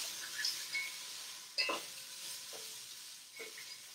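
A bamboo spatula stirs a sizzling chicken dish in a pan, soft frying hiss under a few scraping strokes and light knocks against the pan, faint and close with no talk.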